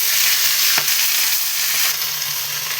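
Oil sizzles loudly and steadily in a pan as mixed greens fry, a continuous bright hiss with a faint clink or two from the cookware.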